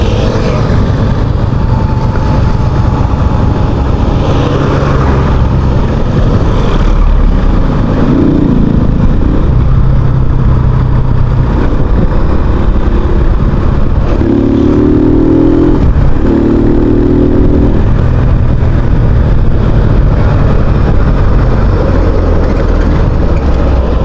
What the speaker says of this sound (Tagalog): mas nagiging smooth yung takbo ng ating motor